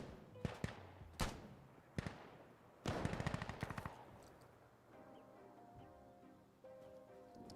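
Gunfire in Insurgency Sandstorm: scattered single shots, then a dense burst of rapid automatic fire around the middle, followed by quieter distant reports over a low game background.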